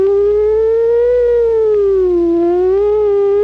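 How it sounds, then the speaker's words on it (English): A wailing siren, as from a police car or fire engine, sustained and loud in a long, slowly rising and falling tone with no voices. "approaching and receding siren."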